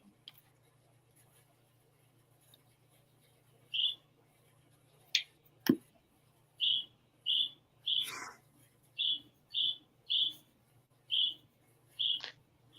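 Bird calling outside a window: a series of short, bright chirps repeated at a steady, roughly regular rhythm, moderately close, over a low indoor hum with a few clicks and knocks.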